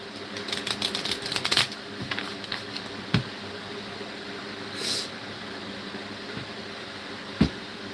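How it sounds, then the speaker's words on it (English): Decks of playing cards being shuffled indoors, with a fast flurry of riffling clicks early on followed by scattered single snaps and taps over a steady hum from a running fan. "Yeah, let's shuffle some of these cards. Some of these decks."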